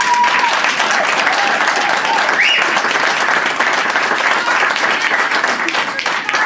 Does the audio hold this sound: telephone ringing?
no